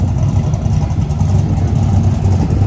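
A Chevrolet Camaro SS with a swapped LS7 V8 runs on a dyno, its deep, loud engine drone holding steady and close with rough low-end pulsing.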